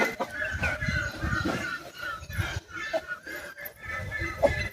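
Chickens in their village coop cluck and squawk restlessly nearby, a continuous agitated chatter of fowl with occasional sharper calls.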